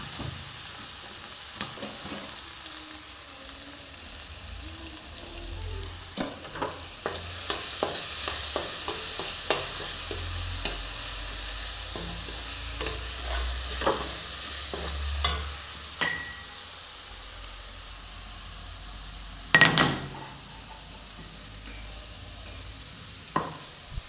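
Rice roasting dry in a pan while a spoon scrapes and stirs it, giving scattered clicks and rasps with a louder clatter near the end, close and alone without talk.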